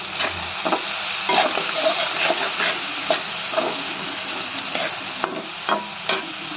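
Broad beans fry with salt, turmeric and chili in a pan, a close sizzle punctuated by frequent scraping stirs and occasional metallic clinks.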